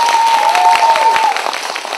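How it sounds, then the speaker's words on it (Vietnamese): An audience at a film screening and discussion event in Bac Ninh claps for the film's cast, loud dense applause with a faint crowd murmur and a brief whistling tone riding over the clapping before it thins out. "Một tràng pháo tay cho những kiên nhất của bộ phim."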